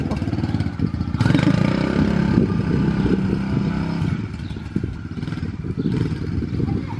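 A motorcycle engine runs and revs close by, a loud rough clattering drone that swells early and then settles into a steady idle for several seconds.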